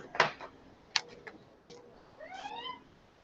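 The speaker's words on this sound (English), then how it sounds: "That's my cat." A house cat gives a couple of short meows near the start, then a longer, wavering meow toward the end, close by and fairly faint in a quiet room.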